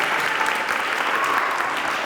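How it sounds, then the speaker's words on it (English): Sustained audience applause at a 2023 school student government inauguration ceremony, a dense even wash of many hands clapping at once, loud and steady throughout with no talking over it. "Let's give a big round of applause for our student government."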